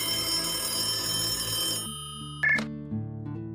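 A telephone rings with a bright, dense electronic trill that cuts off abruptly partway through, followed by quieter tonal music and a brief chime, in a Hindi-language horror story scene.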